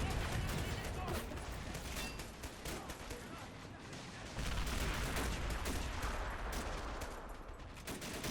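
Dense, continuous gunfire and rattling bursts from a WW1 Western Front battle in the game Great War Realism, loud and sustained for the whole stretch, with a few heavier swells.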